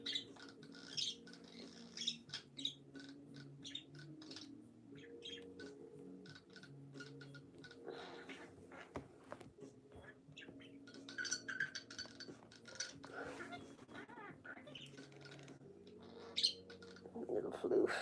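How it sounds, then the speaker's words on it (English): A small bird chirps and squawks in short, scattered bursts nearby indoors, with quiet background noise and occasional soft handling sounds between calls. "Oh, little bird."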